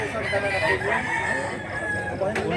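A large rooster crows loudly nearby on a farm in Mantalongon, Cebu, one long drawn-out call, with faint background chatter and farmyard noise behind it.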